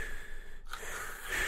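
A voice mimics a heavy breather and loud snorer in a tent, a single wheezy, snorting breath that rises into a louder rasp at the end, close and alone.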